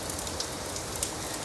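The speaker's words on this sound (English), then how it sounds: "as the rain continues to fall" Rain falls steadily at night, a soft, even hiss of drops with faint scattered patters and no voices.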